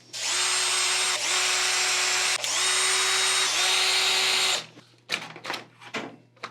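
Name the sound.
power drill retightening screws on skeleton mech arm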